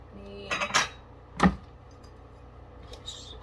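Dishes and cutlery clatter as someone rummages through a kitchen stack for a dish, with a few sharp clinking bursts close by, then a lone knock and quieter rattling.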